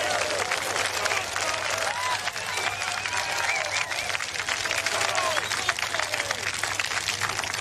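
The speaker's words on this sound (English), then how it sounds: "Great to see and hear all the crowd out there." A golf gallery applauds and cheers around the green at the final round of the AIG Women's Open 2025, a sustained crowd roar of clapping with a commentator talking over it.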